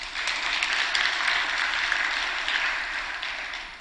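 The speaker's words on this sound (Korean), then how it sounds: "한대 박수 쳐줘." A church audience claps together in a steady, dense burst of applause that holds evenly for a few seconds before easing off slightly, with no voices over it.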